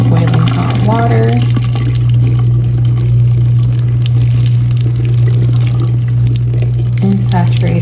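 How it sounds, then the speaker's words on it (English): Boiling hot water pours and splashes over curlers set in a vintage Fashion Queen Barbie doll's hair, a steady running stream throughout, with a strong low hum beneath and a few faint voice-like bits. "when you're done putting the curlers in, you can go in with your boiling hot water"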